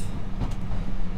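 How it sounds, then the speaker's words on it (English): A heritage steam-era passenger train on the Severn Valley Railway rolls along after leaving Highley, giving a steady, loud rumble with rhythmic wheel clatter throughout and no voices. "So we just left Highley on the last train, heading back to Bridge North"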